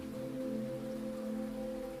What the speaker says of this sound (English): Just you and the sound of rain.